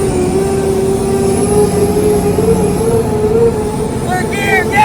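World's largest truck, running on a single motor with a twin transmission upgrade, accelerating in third gear: a loud steady engine drone with a rising tonal whine, continuous for several seconds.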